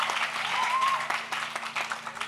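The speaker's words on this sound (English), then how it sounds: "Yeah, you could clap. You can clap. Clap it up." Graduation audience at The Brooklyn School for Social Justice applauding in a steady wash of clapping, moderately loud and somewhat distant, with a faint voice or tone threading through.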